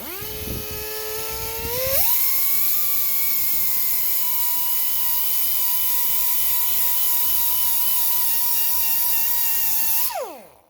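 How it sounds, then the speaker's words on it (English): A soft plastic bristle gasket removal tool spins on an aluminum surface during a coolant change on a Hyundai Genesis V8. It winds up with a rising whine, holds a steady, loud high-pitched drilling tone for about eight seconds, then spins down. "that's just soft plastic, bristles on there. I'm gonna go easy, especially on aluminum"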